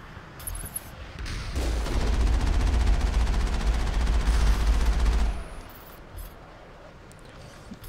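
A dense burst of rapid gunfire in the video game Mass Effect, loud and close, rattling steadily for several seconds before cutting off, followed by faint scattered effects.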